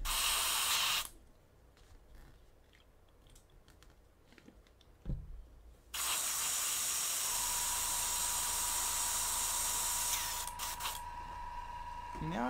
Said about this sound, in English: And I'm going to spray this out.